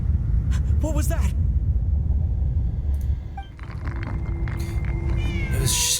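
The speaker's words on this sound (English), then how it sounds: "That's a cat." A cat meows several times in a video game set in a dark, empty theater, with short, clear calls over a low rumbling ambience. Someone talks over part of it.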